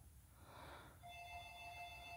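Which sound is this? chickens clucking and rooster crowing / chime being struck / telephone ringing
telephone ringing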